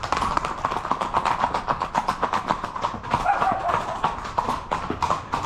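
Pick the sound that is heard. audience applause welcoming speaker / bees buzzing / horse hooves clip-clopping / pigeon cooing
horse hooves clip-clopping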